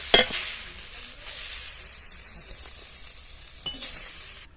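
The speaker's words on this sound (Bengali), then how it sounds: "টমেটো আর নারকেল কোড়াটা ভেজে নিয়েছি, তুলে নেব।" Chopped tomato and grated coconut sizzle in a pan while being stirred for a vegetarian khichuri, giving a steady hiss with a few scraping stirs near the start and end.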